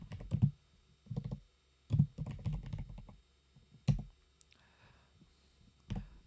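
Bursts of clicking keystrokes on a computer keyboard while entering an edit command in a desktop ordering program, typed in short clusters separated by pauses, close and clear in a quiet room.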